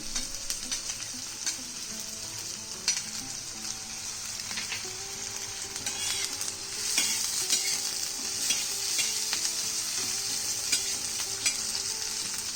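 Onions, ginger, garlic and green chili sizzle steadily in hot oil, a dense continuous hiss with scattered crackles and occasional scrapes of stirring, close and fairly loud throughout, no voices.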